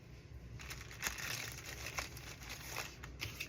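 A plastic bag holding craft appliqués and butterflies crinkles as it is handled, giving soft, irregular rustles and crackles close by with no talking.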